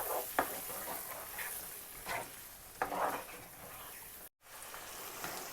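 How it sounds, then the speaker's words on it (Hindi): Yogurt being stirred into Kashmiri dum aloo potato curry in a pan, a soft scraping and wet stirring with a few louder strokes, close and steady with no talking. "इसको अच्छी तरह दही को इसमें मिक्स कर देंगे"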